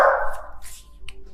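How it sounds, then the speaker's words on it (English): Several dogs bark in a short, close burst, one loud yelp opening, then a couple of quicker, fainter barks trailing off. "Please ignore my dogs."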